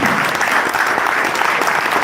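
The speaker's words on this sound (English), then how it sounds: "Can we have one more round of applause for this wonderful team?" Dense, steady applause from a large audience at a live-streamed event, filling the whole moment loudly and evenly with no talk over it.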